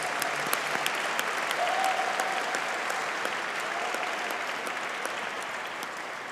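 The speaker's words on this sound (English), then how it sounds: "Let's give a big round of applause to part-time MSBA graduates." An audience at a university commencement ceremony applauds part-time MSBA graduates with sustained, even clapping that continues for several seconds at moderate loudness.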